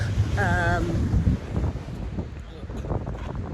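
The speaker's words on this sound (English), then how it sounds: "It's a bit windy today, so I hope it doesn't interfere too much with my vlog." Wind buffets an outdoor microphone in a steady low rumble throughout, with a brief stretch of voice near the start.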